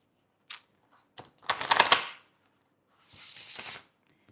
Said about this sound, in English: we're going to give this deck a shuffle.